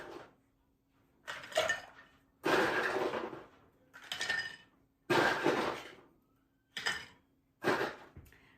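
Ice cubes dropped into a mixing glass holding bourbon for a peanut butter old fashioned, landing in about seven separate bursts of clinking and rattling glassy knocks, close and fairly loud with short pauses between them.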